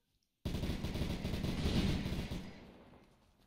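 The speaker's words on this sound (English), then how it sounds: "Who's shooting a Timberwolf? That was an AK-12 U." Rapid burst of AK-12U automatic gunfire in the survival game Unturned, loud and close, a dense volley of shots that runs for about two seconds and then fades into a decaying tail.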